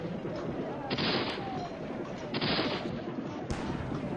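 Rifled cannon and rifle fire roar through a battle at Morrisville, with a few heavy blasts landing around a second apart over a dense, continuous rumble of gunfire.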